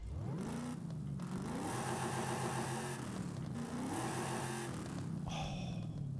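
A muscle car engine in the Forza Horizon 5 racing game revs loudly in two repeated climbs from a low rumble to a high roar, with a brief whine near the end and no talking.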